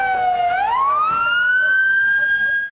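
A civil defense siren sounds during a city-wide drill in Kyrgyzstan, one loud wail sweeping upward and then holding a steady high tone until it cuts off abruptly.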